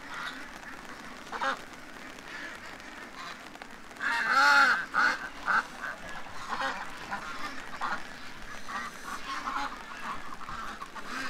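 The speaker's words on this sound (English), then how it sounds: "The geese are coming over to check out the hurt duck." Geese honk among ducks on a rainy morning, with a loud cluster of honks and quacks mid-way, then scattered calls over a steady wet background.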